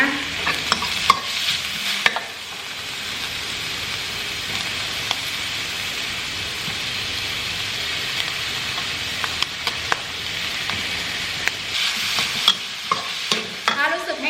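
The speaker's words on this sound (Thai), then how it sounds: "ก็จะเอาตัวนี้ลงไปผัดก่อนนะคะ นี่เป็นดอกกระหล่ำนี้นะคะ" Cauliflower florets are stir-fried in a pan, a continuous close hiss of frying with frequent scraping and clacking strokes of a spatula, strongest at the start and end.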